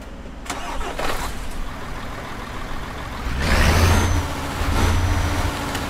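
A European truck engine in American Truck Simulator idles with a deep rumble, then revs up louder before settling, with a brief hiss like an air brake.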